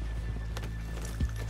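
A few slow, soft hoof clops of a horse walking in Red Dead Redemption 2, spaced unevenly over a steady low hum.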